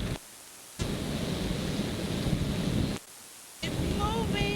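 Strong gusting wind outdoors in Dover, Delaware blasts the microphone in heavy, full roaring bursts that cut out abruptly twice before returning, with faint voices underneath near the end.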